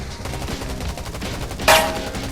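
Rapid automatic gunfire rattles in the video game Garena Undawn, a continuous stream of close shots topped by one louder impact near the end.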